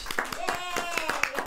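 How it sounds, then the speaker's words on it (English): Rhythmic group clapping from a small podcast studio audience, sharp claps in quick succession, with voices talking over them. "Clap it up."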